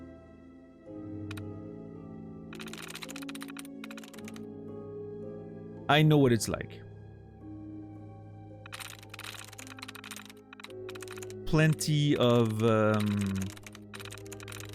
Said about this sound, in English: You don't like the typing sound? I love this typing sound.